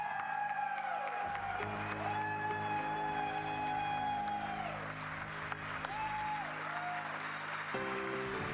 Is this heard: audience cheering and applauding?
yes